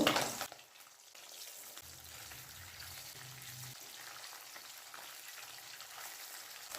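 Snakehead fish fries in mustard oil over a high gas flame after being flipped, giving a soft, steady sizzle that follows a brief louder crackle at the start and then stays even and faint.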